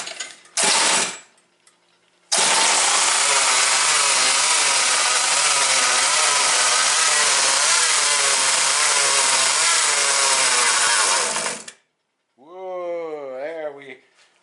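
Home-built quarter-scale two-stroke outboard motor: a brief sputter, then a loud, close, steady buzzing run of about nine seconds that cuts off abruptly, followed by an excited voice.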